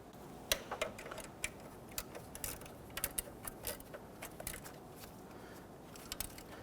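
Quiet, irregular metallic ticks and ratcheting clicks from a wrench snugging the bolts on the timing belt tensioner of a 1992–1996 Toyota Camry 2.2L four-cylinder, close up, with no voices.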